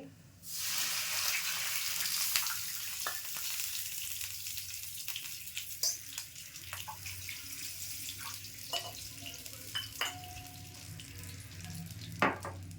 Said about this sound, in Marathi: आता ना मी एक दोन वाट्या पाणी ओतून घेते